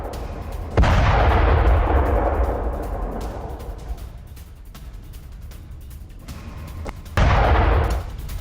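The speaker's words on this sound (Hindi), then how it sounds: "इजराइल पर फिर क्लस्टर बॉम्ब से हमला हुआ है।" Cluster bomb explosions near the Israel–Lebanon border: a deep heavy blast rolling into a long decaying rumble, then a second loud boom several seconds later, distant but powerful, with no voices.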